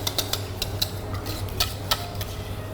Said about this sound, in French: il faut bien mélanger parfaitement le beurre pour être certain que toute la matière grasse soit bien incorporée dans la crème